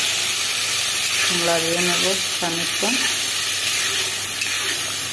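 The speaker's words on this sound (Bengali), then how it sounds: "আলু ভাজা হয়ে গেছে, এখন মশলা দিয়ে দিচ্ছি।" Potatoes frying in a pan with turmeric, cumin and salt, giving a steady loud sizzle and hiss throughout while a voice speaks briefly over it.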